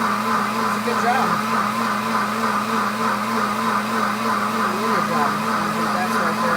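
A blender whirs steadily and loudly up close as it makes nut milk, a continuous motor drone with a person talking over it.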